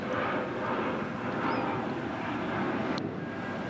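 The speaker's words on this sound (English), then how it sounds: "flight to Los Angeles has already taken off. That's what you hear in the background." A passenger plane taking off at Dallas/Fort Worth Airport gives a steady, loud jet roar with broadband rumble, heard alone for several seconds.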